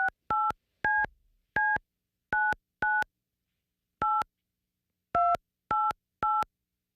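Ten touch-tone beeps sound one at a time with uneven gaps, each a short clean dual-tone blip in a silent room.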